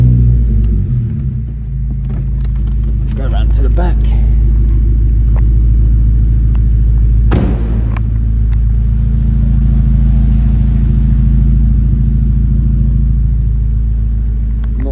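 A remapped Volkswagen Scirocco R TSI Stage 2 with a Revo tune idles indoors with a steady, deep, echoey rumble and one brief sharp burst partway through; someone speaks a few words early on.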